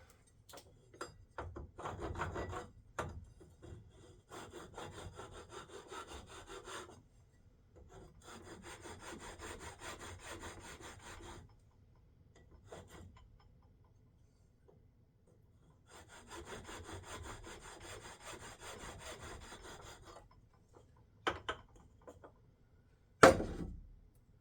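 A rasp files a wooden knife handle in three long bursts of steady back-and-forth strokes, with quiet pauses between them and a few sharp knocks at the start and end.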